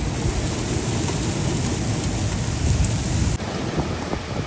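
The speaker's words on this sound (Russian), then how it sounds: "У нас на Мадейре град." Hail and rain pour down on Madeira, a dense, continuous roar of drops pelting surfaces nearby, loud and unbroken with slight shifts in intensity, with no voices.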